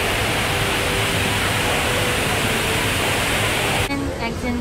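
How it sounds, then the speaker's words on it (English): Huge indoor waterfall at Jewel Changi airport in Singapore, a steady, dense roar of falling water filling the space and cutting off abruptly near the end. "In Jewel Changi and there's a huge waterfall."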